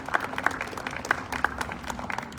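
An audience at a team logo unveiling announcement claps at moderate volume, with scattered claps over a steady low hum and no clear talk.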